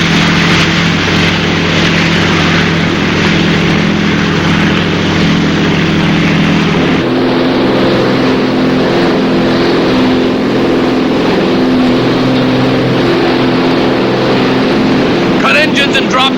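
Boat engines running at sea, a loud, steady close drone with constant low hum that shifts in tone partway through, continuous throughout.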